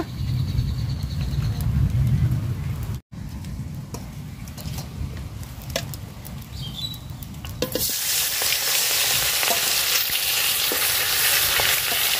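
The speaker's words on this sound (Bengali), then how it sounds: "তো তেল দিয়ে দিলাম পাতিলে মাছ ভাজার জন্য।" Tilapia fish frying in hot oil in a pot gives off a steady crackling sizzle that swells louder and brighter partway through, with scattered pops and spatters, close up and with no voices.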